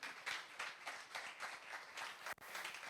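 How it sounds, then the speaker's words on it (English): Audience at the YAMF 2022 event applauding, a steady patter of many hands clapping at moderate distance, continuous for a few seconds with a brief dip near the end. "He likes the applause from the beautiful ladies."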